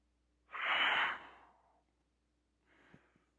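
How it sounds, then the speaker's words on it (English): A person exhales all their breath at once in a single forceful, breathy rush lasting about a second, followed by a quieter, softer breath a moment later. "So if I inhale and then I release all my breath at once,"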